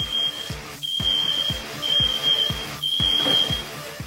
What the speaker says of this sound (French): L'alarme incendie se déclenche.